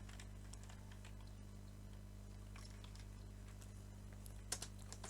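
A computer keyboard is typed on in a quick, irregular run of faint key clicks over a low steady hum, with no voices.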